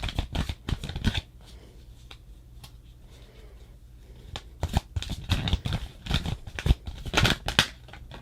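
Tarot cards are shuffled by hand in close, crisp bursts of riffling and flicking, pausing in the middle before resuming in quicker rapid flurries.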